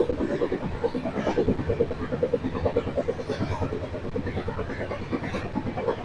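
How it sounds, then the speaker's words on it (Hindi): The Ala Hazrat Express running at full speed, a continuous loud rumble and rattle of rail wheels with a dense, rhythmic clatter throughout, heard from on board. "ट्रेन अपनी रफ्तार पूरी पकड़े हुए।"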